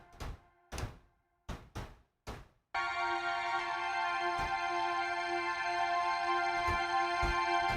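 Several dull knocking thumps come first, then a sustained Mellotron-style Omnisphere keyboard tone swells in and holds steady while occasional soft thuds land over it.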